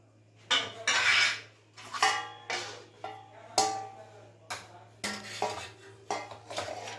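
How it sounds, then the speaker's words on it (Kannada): Cooked rice is served onto a plate at home beside freshly made chicken sambar. A spoon clinks and scrapes against the dishes in a series of close, distinct knocks separated by brief pauses. "ಇವಾಗ ಪ್ಲೇಟಿಗೆ ಅನ್ನ ಹಾಕ್ತಿದಾರಮ್ಮ"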